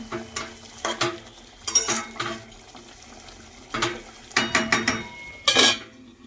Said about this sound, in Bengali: এবার এর মধ্যে দিয়ে দেবো গরম মশলা গুঁড়ো দিয়ে মিশিয়ে নেব